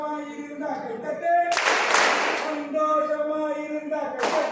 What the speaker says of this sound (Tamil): சந்தோஷமாயிருந்தா கைத்தட்டு, சந்தோஷமாயிருந்தா கைத்தட்டு